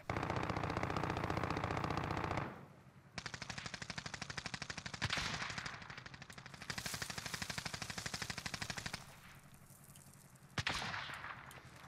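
Rapid automatic gunfire in Call of Duty Warzone rattles in long sustained bursts, fairly close and steady, broken by short pauses and a couple of sharper blasts, with no talk.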